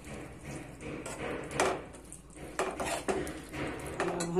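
Spoon mixing mashed potato into Banarasi tomato chaat in a metal pan, soft scraping and irregular clinks of spoon against the pan, close and fairly quiet, with no talking.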